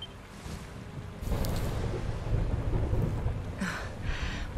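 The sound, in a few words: thunder in video game Dragon Quest XI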